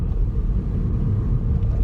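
A Ford Fiesta ST Line drives along the road, giving a steady, close low engine and road rumble that holds even throughout with no voices.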